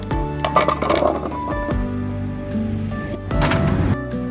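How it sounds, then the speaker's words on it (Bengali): Cut olives tumble into a bowl for olive pickle, giving a run of close clinks and knocks, loud bursts near the start and again toward the end with a busier clatter between. "এখন জলপাইগুলো একটা গামলায় আমি নেব।"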